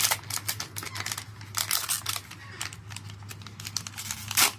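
A Panini Adrenalyn XL World Cup 2026 premium booster pack wrapper is torn and crinkled open close by, a dense run of sharp crackling and ripping bursts with a few brief pauses.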